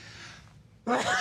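A single sharp sneeze bursts out loud near the end, following a brief lull after quiet talk-like sound, as someone speaks during a television interview about economic policy.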